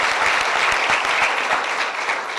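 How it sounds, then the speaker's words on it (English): A room full of people at a chamber of commerce luncheon applauds steadily, a thick wash of clapping that holds throughout and fades slightly toward the end, with no speech over it. "So let's just give the B one more round of applause."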